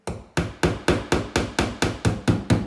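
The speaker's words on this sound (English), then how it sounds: "I'm just going to verify there's still a stud there by putting my finishing nail in there" A finishing nail hammered into a wall to locate a stud while installing a microwave: ten crisp, evenly spaced taps in quick succession, close and fairly loud.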